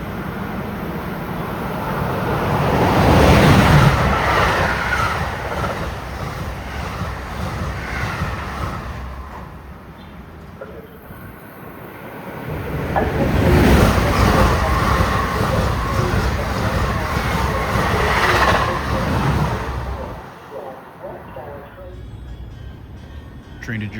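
Commuter train rumbling into New Brunswick station with a broad, swelling roar of wheels and motion that rises, eases, then surges again, heard from the platform over a long stretch.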